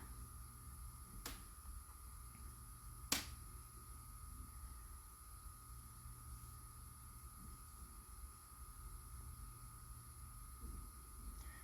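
Two sharp, isolated hand claps, the second louder, ring out over a quiet room hum while someone applies eye makeup; no one speaks.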